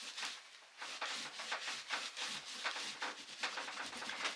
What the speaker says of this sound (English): on my rag, and I am just rubbing back and forth on the belt